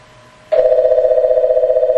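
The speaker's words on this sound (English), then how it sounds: "It rings the phone in room 61." A telephone on a PETS phone system rings in room 61: after a short quiet stretch, a steady, loud electronic ring tone starts abruptly and carries on with a fast, even pulsing.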